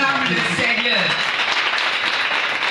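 Church congregation clapping and cheering together, a dense, steady wash of applause filling the space, with voices shouting acclamations over it.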